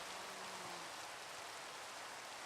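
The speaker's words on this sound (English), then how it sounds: "in this torrential downpour." Torrential rain falling in Minecraft, a faint, steady wash of hiss that stays even from start to finish with no other sounds.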